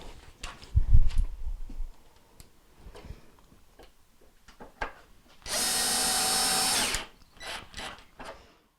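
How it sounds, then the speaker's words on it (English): A power drill drives a mounting bolt into the dispenser assembly of a Whirlpool washer, a single steady whir of about a second and a half, close and loud, between scattered clicks and handling knocks. "Now we'll put on our mounting bolt for the dispenser assembly."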